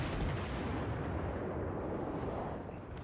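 Warship guns in a naval video game firing a heavy booming salvo, a dense, loud rumbling roar of artillery blasts that fills the short stretch without pause, with no talk over it.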